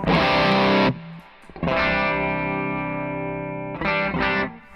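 Electric guitar driven through a boosted-gain distortion pedal with added presence, thick and saturated: a sustained chord that cuts off, then a long ringing chord, followed by two short stabs, loud and alone.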